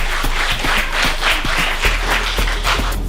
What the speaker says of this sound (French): Et je voudrais que vous applaudissiez encore fortement l'initiative